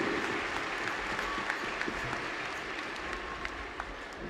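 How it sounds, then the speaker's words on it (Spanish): A crowd at a school cueca dance competition in Constitución applauds don Elvio Albornoz Bravo, a steady, dense wash of many hands clapping throughout, with no voices standing out. "Regalémosles un grande y fuerte y entusiasta aplauso a don Elvio Albornoz Bravo"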